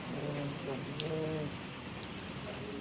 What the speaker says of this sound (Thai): ฝนตก ตกมาแบบนี้เลยเหมือนกันนะคะเนี่ย